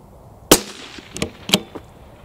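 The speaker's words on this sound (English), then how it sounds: "we've had 15 sequential rounds into three groups there" Sharp cracks from a CZ 457 thumbhole laminate rifle firing 17 HMR rounds outdoors, with three or four separate reports spaced irregularly over a couple of seconds and faint echo tails between them.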